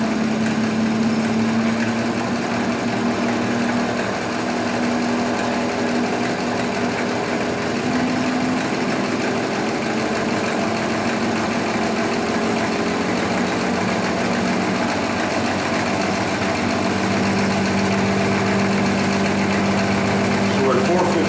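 A Sun distributor tester spins a 1112034 Olds 4-4-2 W-30 distributor at about 450 RPM. It makes a continuous, even mechanical whir and hum that holds steady for the whole stretch at close range.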